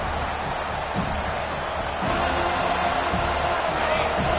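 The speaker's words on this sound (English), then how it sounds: "Decibels rising as the crowd gets behind this defense on third down" A college football stadium crowd roars for the defense on third down in a dense, sustained wall of noise that swells louder midway, with a commentator talking over it.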